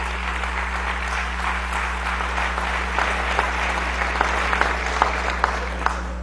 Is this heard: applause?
yes